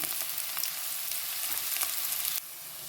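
Onions and chilli sizzle in hot oil with popping mustard seeds, a loud, steady crackling fry close by with no voices, dropping slightly in level near the end.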